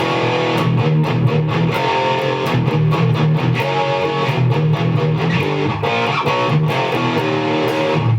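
A distorted electric guitar plays a fast, chunky riff of power chords at steady loud volume, with no voices.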